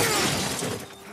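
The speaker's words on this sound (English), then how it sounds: "why is the glass so loud?" Glass shatters loudly and sharply in The Last of Us Part I, a dense crash of breaking glass with a quick scattering tail that fades within a second.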